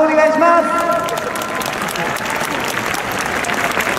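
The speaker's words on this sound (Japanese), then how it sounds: "チームサスケの皆さんに今一度大きな拍手をお願いします。" Stadium crowd at a baseball fan festival in Yokohama gives a big round of applause for a cheer team and an athletic challenge squad, loud dense clapping filling the space, with an announcer's voice briefly heard at the start.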